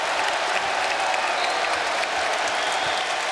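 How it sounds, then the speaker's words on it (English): Crowd in a Big Ten basketball arena at Wisconsin during an Ohio State game, a sustained roar of applause and cheering that holds at an even, full level throughout with no break. "Oh, the crowd."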